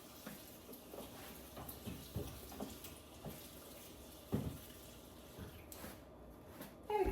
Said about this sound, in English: Gonna cover this in water.